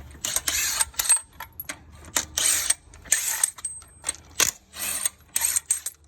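Tool working on the wheels of a Toyota Prado 150 during a rear brake job, giving repeated bursts of loud mechanical ratcheting and whirring separated by brief pauses, close by and with no talking.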